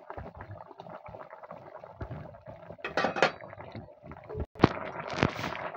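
A lid is set on a pot of tilapia and new potatoes simmering on the stove, giving a few sharp metallic clinks amid quiet kitchen clatter and faint bubbling.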